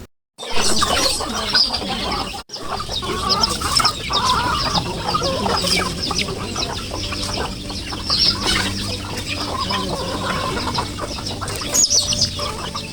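Chickens cluck and chatter continuously nearby in Negros, Philippines, with occasional sharper squawks over a busy farmyard background.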